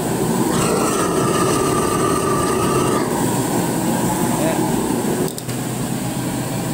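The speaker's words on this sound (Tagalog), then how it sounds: "dito lang tayo mag-switch sa blower" A gas-fired wok burner with its air blower runs as a loud, steady roaring rush that briefly lowers in pitch as the blower is adjusted, with a person speaking briefly over it.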